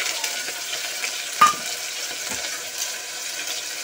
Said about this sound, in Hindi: और प्याज को अच्छे से भूनने दूंगी।